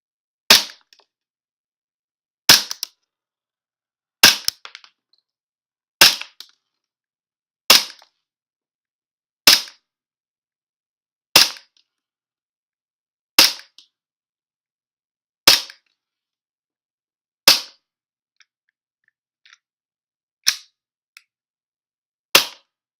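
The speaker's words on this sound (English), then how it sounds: "we're going to start off with the control, the metal magazine right here, and let's see how the FPS drops. One round every second." A WE Glock 17 gas airsoft pistol with a metal magazine fires single sharp cracks at roughly one-second intervals, about eleven shots, each with a brief echo, the last few weaker and spaced out as the gas runs low.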